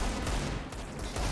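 Gunfire from the Counter-Strike map Vertigo fills the whole stretch, a dense continuous burst of game shots at steady loudness with no talk over it.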